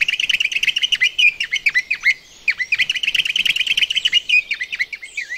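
A bamboo whistle toy spun through the wind mimics the call of a little grebe, giving a rapid run of bright, trilling chirps that repeat in quick bursts, loud and close, with a short pause midway and no voices.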